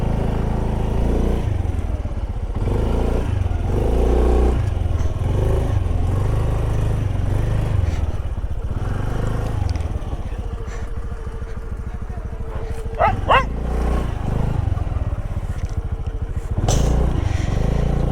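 Scooter ridden along a rough, narrow village road, its small engine droning steadily with rattles and bumps throughout, the pitch rising briefly near the end, while a rider talks over it.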